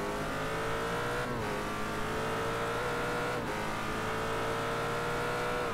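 A Ford GT race car in iRacing, its engine roaring steadily and loudly with two brief dips like gear changes, no voices.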